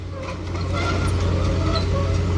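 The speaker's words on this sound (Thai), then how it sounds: "เร่งเครื่องเบาๆ" A truck engine revs gently during work hauling 600 tons of rubber scrap, a low steady rumbling drone held close by and evenly loud, with no talking.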